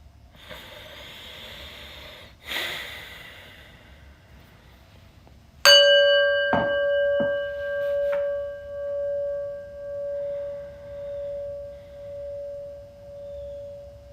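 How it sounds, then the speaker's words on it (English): A small prayer bell is struck once and rings out with a clear, sustained tone that slowly pulses and fades, after some soft breathing in a quiet room. "we ring a little prayer bell. You listen to the prayer bell."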